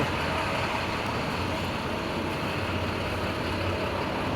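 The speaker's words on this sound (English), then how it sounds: "We've got all these delivery vehicles and city buses." Steady downtown street traffic in Halifax, with delivery vehicles and city buses rumbling past in a continuous, fairly loud roar and a low engine hum throughout.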